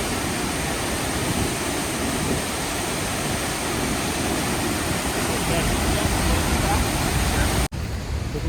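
A Norwegian waterfall crashes down forcefully nearby, a loud, constant roar of rushing water that fills the scene and then cuts off abruptly near the end.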